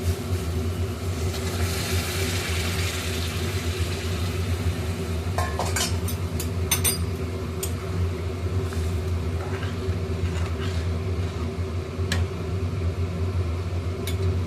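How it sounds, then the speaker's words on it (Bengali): Hot water poured into fried masala for Bihari egg curry: a steady loud sizzle and hiss from the pan, with a few metallic spoon clinks and scrapes partway through. "এবার আমি গরম জল দিয়ে দেবো।"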